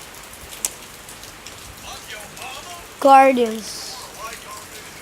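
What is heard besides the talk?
rain falling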